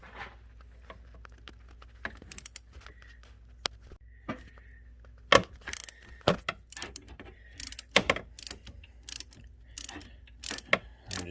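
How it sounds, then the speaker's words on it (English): A ratchet clicks in quick bursts while loosening a bolt on the lower steering shaft of a Ford or Lincoln, with sharp, close clicks separated by short pauses and no talking. "I'm loosening up this bolt."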